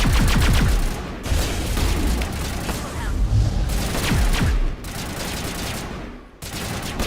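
Rapid bursts of gunfire in the Mass Effect video game crack out again and again, loud and close, broken by short gaps, with a player's voice talking over parts of the shooting.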